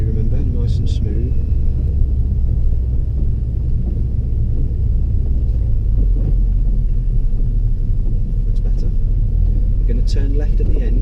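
A car being driven in second gear during a driving lesson gives a steady, close engine rumble and road noise throughout, with a voice speaking faintly over it.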